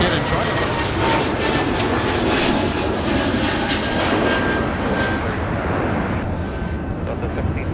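Jet aircraft taking off from runway 30 left at Minneapolis–Saint Paul airport, a loud, sustained broadband engine roar that holds steady throughout with faint tonal whines above it.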